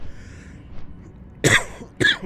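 Two sharp coughs in quick succession near the end, close and loud, after a quiet moment.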